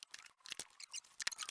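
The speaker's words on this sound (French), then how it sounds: "je prends mon cutter, c'est parti" A box cutter slices through the packaging of an Acerbis 22-litre tank for a Yamaha Ténéré 700 in short, scratchy, quiet cuts and tears, close by in a series of brief bursts.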